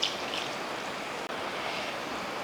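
Water is poured into a pan of egg curry, making a close, steady splashing rush with a momentary break partway through.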